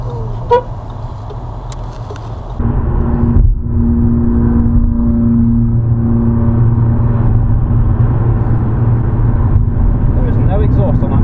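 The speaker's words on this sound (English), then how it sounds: "There is no exhaust on that Mini." A Mini car with no exhaust fitted drives nearby on a Nottingham road, its engine a loud, raw droning roar that holds steady for several seconds alongside a brief horn toot, heard from inside another car with occasional speech.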